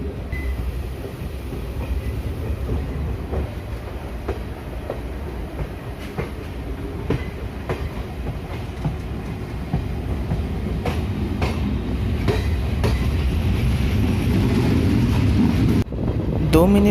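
A DEMU train pulls out of Gulma station, a small stop near hills and forest, with a loud steady rumble, rhythmic wheel clicks and rail knocks that build as it gathers speed.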